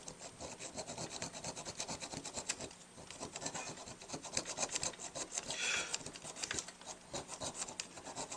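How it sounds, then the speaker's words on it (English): A half-round file rasping at a Dukoff D9 saxophone mouthpiece, close rhythmic back-and-forth scraping strokes that continue without a break. "This file has got kind of a half curve on it."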